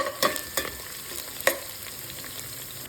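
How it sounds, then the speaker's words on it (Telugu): Chopped onions frying in a pan while mutton donne biryani is being made, with a steady soft sizzle broken by a few sharp scraping stirs up close. "కట్ చేసి పెట్టుకున్న ఉల్లిపాయలు, వేయించుకున్నాను."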